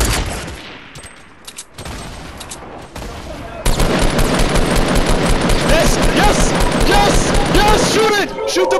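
Sustained rapid gunfire in the game Fortnite, loud and dense bursts rattling continuously through the second half after quieter, sparse shots, with excited shouting mixed in.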